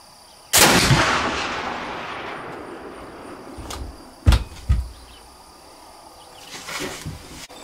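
A single loud, booming flintlock rifle shot from a Kibler Woodsrunner loaded with Goex black powder cracks close by and rings out in a long decaying echo, followed by a few faint clicks and handling sounds.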